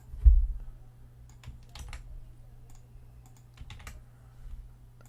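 Keys clatter on a computer keyboard as code is typed for a game development lesson, bursts of quick close clicks over a steady low hum, no talking.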